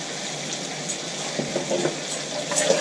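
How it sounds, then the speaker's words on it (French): Garlic frying in melted butter in a hot wok, a faint continuous hiss with a few light crackles and stirring scrapes, close and quiet. "je vais laisser brunir mon ail"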